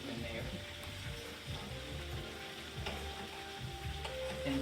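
Liver sizzles in a frying pan, a steady crackling fry with occasional stirring scrapes, fairly quiet and close, with a voice faintly present beneath.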